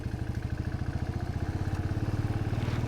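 A motorcycle engine chugs in a steady, rapid low thump as the bike climbs a steep mountain road in the Himalayas at about 12,000 feet near Ulley village, loud and close with no voices.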